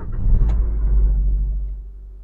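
A Maruti Suzuki Ertiga CNG car engine turns over and settles into a low, steady idle rumble, close by, with no voices.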